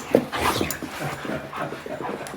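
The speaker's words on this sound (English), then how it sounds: "getting a big welcome out with puppies" Puppies give an excited welcome, panting rapidly and letting out high whimpers and small yips close by in an indoor setting, with no clear talking.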